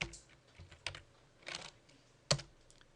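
Typing on a computer keyboard while entering a command in Rhino 3D modeling software: a few separate bursts of quick, close keystrokes with short pauses between them.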